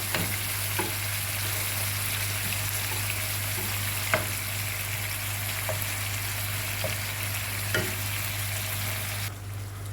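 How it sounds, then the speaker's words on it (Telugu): Eggplants frying in a pan, a steady dense hiss with a handful of sharp clicks from the pieces being turned, close up over a constant low hum, with no voices. "మనం ఈ వంకాయలు బాగా తిప్పుకుంటూ ఉండాలండి. రెండు పక్కలు బాగా ఫ్రై అయితే"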